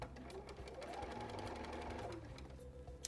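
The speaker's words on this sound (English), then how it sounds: "now we're going to carefully sew all the way around" A sewing machine stitching a sleeve in the round at the armhole: a steady, fast, close mechanical whir of the needle with a faint click near the end.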